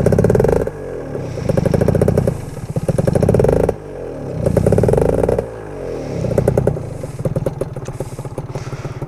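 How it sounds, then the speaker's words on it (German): A Gilera Runner FXR 180 two-stroke scooter engine revs in repeated loud bursts, rising and falling several times with a rattly two-stroke buzz, close and alone without talk. "Also Klang für Zweitaktfreunde oder für die auf Zweitakt stehen, ist das mega geil."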